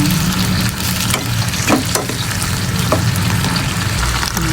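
Fried garlic drops into a pan for adobong kangkong with tofu and sizzles steadily, a close, dense frying crackle with a few sharper pops and light stirring scrapes, no voices.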